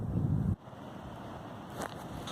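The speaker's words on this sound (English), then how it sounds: "So sorry about the noise, it's very windy here at the moment." Wind buffeting the microphone with a low rumble that drops off briefly, then steady blustery noise continues outdoors during cleaning of a Toyota Prado/Hilux 1KD-FTV EGR valve.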